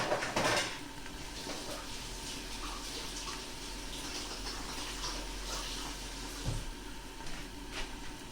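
Water running from a kitchen tap as dropped cooking tongs are rinsed, a steady broadband flow lasting throughout with a brief splash near the start and another near the end.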